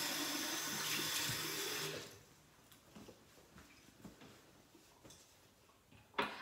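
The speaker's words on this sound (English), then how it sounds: "There, wash my hands." Water runs from a tap while hands are washed at a sink, a steady gushing flow for about two seconds that then shuts off, leaving faint drips and small clicks.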